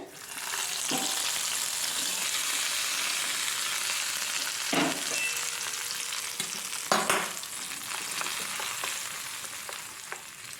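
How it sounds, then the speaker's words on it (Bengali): Tempering spices fry in oil over a low flame for coconut chutney, producing a steady close sizzle broken by a few sharp spoon clinks and scrapes against the pan. "অল্প করে এগুলো ভেজে নেব ফোড়নটা হয়ে গেছে"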